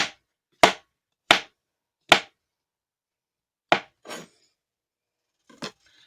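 A knife slices mushrooms on a cutting board: about eight sharp, separate strokes in an irregular rhythm, close and alone with no talking.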